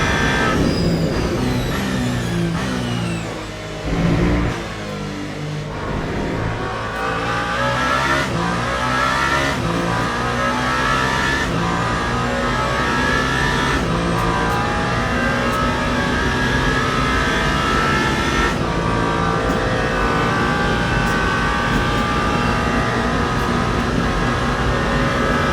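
Race car engine from Le Mans Ultimate at the 24 Hours of Le Mans, a damaged car pushing through a fast lap: loud, sustained high-revving roar with repeated rising pitch sweeps through gear changes, close and continuous with no talk.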